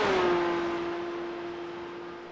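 A GT3 race car in a Nürburgring endurance racing video game holds a steady, sustained engine drone. The tone stays alone and gradually fades a little as the car pulls away.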